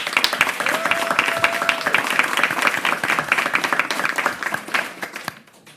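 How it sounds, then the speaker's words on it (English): An audience at a New York mayoral press conference claps for Council members, a dense, lively round of applause that stays strong, then thins and fades out near the end. "Let's give a round of applause to all the Council members."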